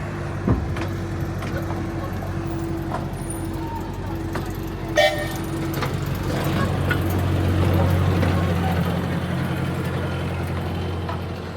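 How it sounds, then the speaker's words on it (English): A miniature train at Funland, Hayling Island, rumbles closer and sounds a sustained horn toot, with engine hum building steadily and a few clanks along the way. "There comes the train, just turning round now."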